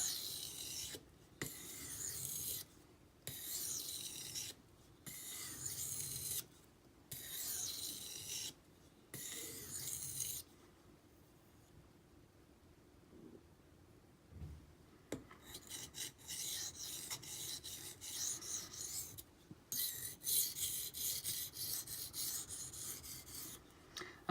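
Steel knife blade rasping across an Imanishi Latte 400 grit whetstone in a run of rhythmic gritty strokes, each separated by a short gap, followed by a quieter stretch and then faster, denser scraping.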